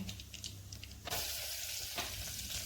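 Cumin and mustard seeds dropped into hot oil for tempering, a sudden loud burst of sizzling and spitting that continues as a strong steady hiss, after a quieter stretch of faint crackling.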